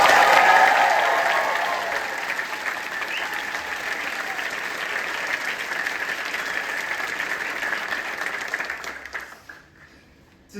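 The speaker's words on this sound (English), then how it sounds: "let's give them a big round of applause" Audience applause at a theatrical curtain call for a stage production of Your Lie in April, a loud steady ovation of many hands that holds evenly for about nine seconds before tapering off quickly.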